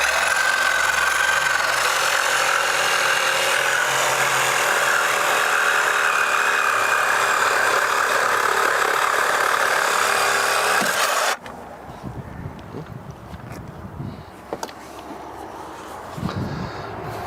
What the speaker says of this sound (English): I'll go grab the Sawzall and cut it.